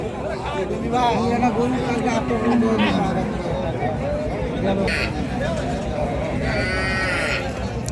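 Dairy cows and calves calling out at a livestock market, with low moos and bleat-like cries rising over steady crowd chatter and talking throughout.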